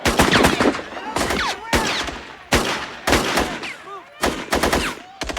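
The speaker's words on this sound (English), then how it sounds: "Alina, you've seen the shooting. It is still going on." Gunfire from a sniper on a roof rings out in rapid bursts of sharp, loud cracks repeating in clusters, with shouting voices in between.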